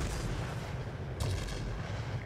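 Cannon fire from a Ta 152 fighter in World of Warplanes sounds as rapid, loud bursts of gunfire over a continuous engine roar, with a break in the firing partway through.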